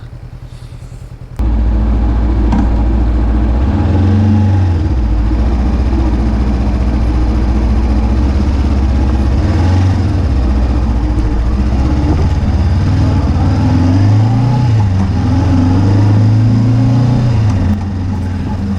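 Honda CBR500R motorcycle ridden through city streets, a steady engine drone from onboard that rises and falls as the rider works through the gears, with no talking over it.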